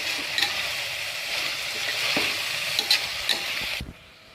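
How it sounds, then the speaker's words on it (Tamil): Onions, green chilies, ginger-garlic paste and vegetables with masala sizzle and fry in a hot pan for spinach pulao while a utensil stirs and scrapes them, close and steady, before the sound cuts off abruptly. "வெங்காயம், பச்சை மிளகாய், இஞ்சி பூண்டு விழுது, காயெல்லாம் நல்லா மசாலாவோட சேர்த்து நல்லா வதக்கணும்."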